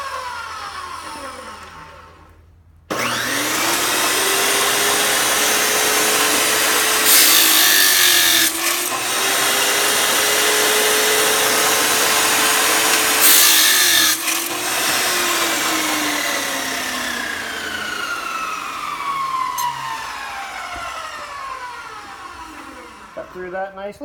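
A Maximum 14-inch chop saw spins up to full speed with a whine, then grinds loudly through aluminum in two long cutting passes, the motor pitch sagging under load and rising again before winding down, close and loud.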